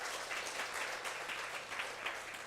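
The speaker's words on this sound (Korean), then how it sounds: "박수로 환영합니다" A church congregation at a Sunday service claps to welcome a guest, a dense, even patter of applause heard alone at moderate level across the room.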